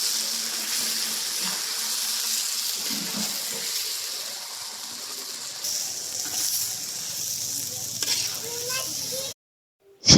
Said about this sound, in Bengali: এখন এই কচু শাকগুলা আবারও অনেক